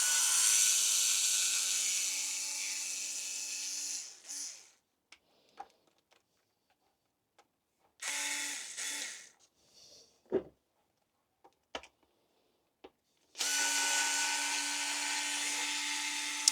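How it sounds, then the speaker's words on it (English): Electric screwdriver driving small screws into a Team Corally Punisher RC car, high whirring bursts of several seconds separated by quiet pauses and small clicks as screws are handled. "I'm using a electric screwdriver, as you can see"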